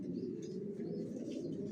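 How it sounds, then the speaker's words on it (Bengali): Racing pigeons, Johnson silver racers, cooing in a loft as a steady low murmuring drone with faint chirps above, continuous and fairly close, no talk. "কোয়ালিটি সম্পন্ন কবুতর পালি।"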